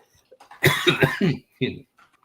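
A person coughs several times in a quick burst of harsh, close bursts, with a final cough trailing after a short pause; no other sounds around it.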